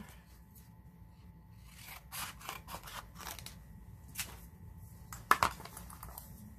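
Scissors cut pink cardstock in a quiet room, a few faint, scattered snips with short pauses between them and one crisper cluster near the end.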